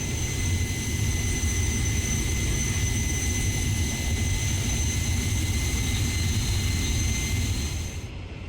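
A T-33 jet in a flight simulator game, cruising in steady flight: a loud, continuous engine roar with a steady whine held at one level throughout, with no talking.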